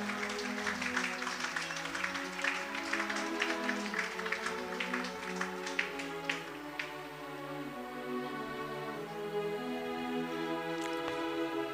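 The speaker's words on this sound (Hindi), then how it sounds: "जोरदार ताली बजनी चाहिए।" Audience applause at a parish day celebration, dense overlapping hand claps sustained at an even level throughout, with some background music under it and no speech.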